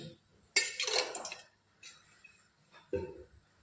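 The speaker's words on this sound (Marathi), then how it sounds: "इथे मी कढई तापत ठेवली, त्यात मी 2 चमचे भरून तेल टाकते।" Two spoonfuls of oil go into a heated kadhai for sukka mutton, heard as short, close metallic clinks of a spoon against the pan with a faint drip, then quiet, and no voices.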